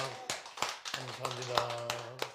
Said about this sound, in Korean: 오늘도 불러주신 하나님께 영광의 박수 올리겠습니다